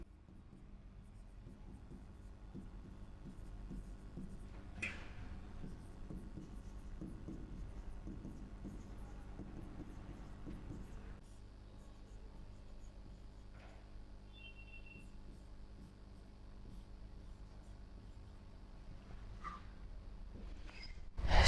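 Chalk or marker scratching and rubbing across a board as physics theory notes are written, a steady close scraping texture running throughout with brief pauses and no talking.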